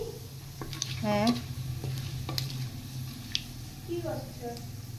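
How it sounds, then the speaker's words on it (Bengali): Whole dried red chillies, bay leaf and cumin seeds sizzle in hot oil in a cooking pot, a steady close frying hiss with light stirring, while a voice talks briefly over it. "হাঁড়িতে আবার তেল দিয়ে দিয়েছি, এবার দিয়ে দেব আমি গোটা শুকনো লঙ্কা, তেজপাতা আর গোটা জিরে।"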